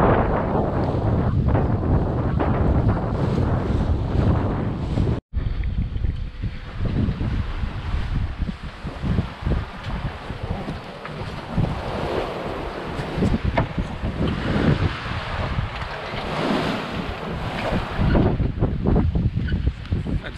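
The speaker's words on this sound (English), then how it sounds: "The wind has picked up a little bit, so it's nice." Steady, loud wind buffets the microphone aboard a sailboat cruising along a river, with broadband rushing and water noise running continuously through the whole stretch and only a momentary dropout partway in.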